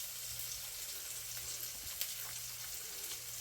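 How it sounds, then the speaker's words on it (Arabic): Food fries in a pan with a steady, faint sizzle while a spoon turns it, with only small scrapes and taps audible under the constant crackle. "وهقلب بالمعلقه."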